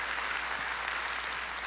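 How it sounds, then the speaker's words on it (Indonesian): A church congregation applauding, a dense, steady wash of many hands clapping at once, even and sustained at moderate level with no voices on top. "Mari sekali lagi tepuk tangan yang paling meriah buat Tuhan kita."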